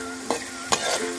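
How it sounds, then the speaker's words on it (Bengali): Onion fries in a pan over a wood-fired clay village stove for duck bhuna, a steady sizzle cut by two quick scraping stirs of a spatula, close and brief. "পেঁয়াজটা নরম হওয়া পর্যন্ত এটা একটু ভেজে নিতে হবে"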